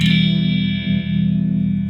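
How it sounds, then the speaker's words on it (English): Electric guitar through a Hoodoo Drive overdrive amp model with gain around 70, one held, crunchy overdriven chord ringing loud and sustained for two seconds with a brief dip in the middle. "So what I'll do is I'll turn the gain up a little bit on this, maybe to like 70, and then you get a sound that sounds like this."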